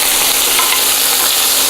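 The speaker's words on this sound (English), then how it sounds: "And the guanciale goes in. This pan has gotten hot." Guanciale dropped into a hot oiled pan over medium heat, frying with a loud, dense, continuous sizzle and crackle, close up and with no talking.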